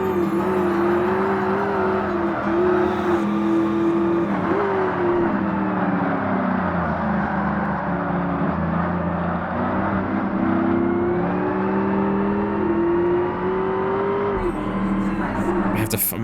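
A supercharged Chevrolet Cobalt SS races in Forza Motorsport, its engine holding a loud, steady whining drone with shifting pitch as it accelerates and changes gears, ending with a sudden change near the close.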